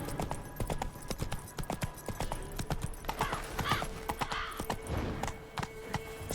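A horse galloping in The Witcher 3: Wild Hunt, its hooves drumming in quick, regular clip-clop beats close by, with a brief whinny-like sound in the middle and no talk over it.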